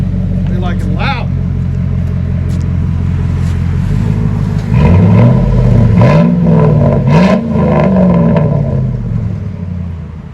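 A 2007 Chevy Silverado pickup with a 4.8L V8 and dual straight-pipe exhaust rumbles steadily, then revs loudly several times in quick surges from about the midpoint, close and dominant.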